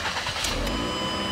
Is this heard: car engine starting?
yes